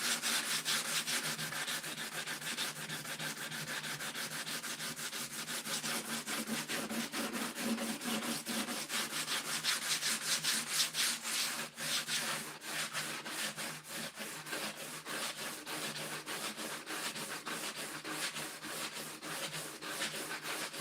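Continuous rhythmic scraping of 80-grit sandpaper across a wooden chair, steady back-and-forth strokes close up, with no talking.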